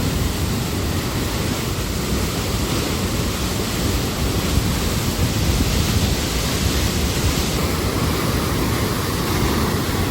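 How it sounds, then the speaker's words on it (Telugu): Water gushes continuously from three running pump motors at the Kondaveeti stream, a loud, dense, steady roar with no pauses and no talk. "చూస్తున్నారు కదండి మూడు మోటార్లు అయితే ఆన్లో ఉన్నాయండి రన్నింగ్లో ఉన్నాయన్నమాట"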